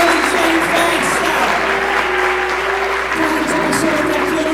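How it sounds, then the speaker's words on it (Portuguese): A church congregation at a conference applauds, a sustained, loud roar of clapping that runs unbroken, with a voice speaking over it and a low hum underneath. "Aplauda ao Senhor, aplauda ao Senhor"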